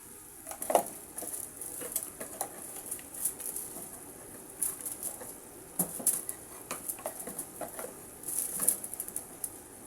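Spices such as garam masala and coriander powder are stirred in a cooking pan, giving light irregular clinks and scrapes of a spoon against metal, close and quiet over faint sizzling.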